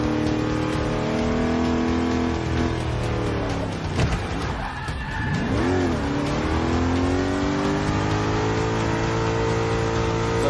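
A damaged race car in a sim racing video game revs hard and steadily. The engine pitch dips around a corner before climbing again, and the tone stays loud and continuous throughout.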